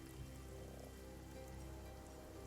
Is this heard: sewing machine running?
no